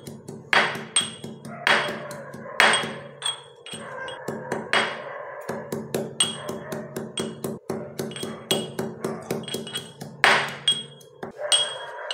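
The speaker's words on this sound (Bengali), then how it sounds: "প্রথমে এখানে পুদিনার পাতাগুলিকে দিয়ে দেবো। একটু ভালো করে থেতো করে নেবো।" Mint leaves being crushed with a muddler in a glass for a kala khatta mojito, making a steady series of close, hard knocks and clinks. No voices are heard.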